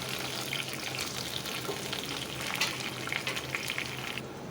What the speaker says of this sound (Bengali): এবার বেগুনটা দিয়ে আমি ভালো করে ভেজে নেব